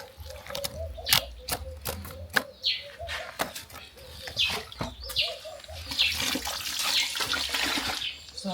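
Water poured and sloshing while fermented corn dough is blended smooth for pap, with irregular splashing and trickling up close and a louder, steadier pour toward the end.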